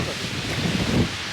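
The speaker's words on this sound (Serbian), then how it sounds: "Duva vetar, bukvalno nosi kamenje." Strong wind sweeps across the Vršič mountain pass in a dense, close, steady rush that pushes hard against the microphone, briefly swelling louder.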